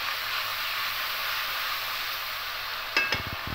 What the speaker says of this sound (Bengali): 2টো টমেটো পেস্ট করেছি, এটা দিয়ে দেবো। একটু ভালো করে নেড়ে নেব